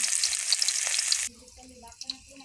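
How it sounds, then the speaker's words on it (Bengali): Onions fry in a wok with a loud, bright, crackling sizzle for just over a second, then cut off abruptly to quieter, softer background sounds. "পেঁয়াজটা ভাজা হতে থাক"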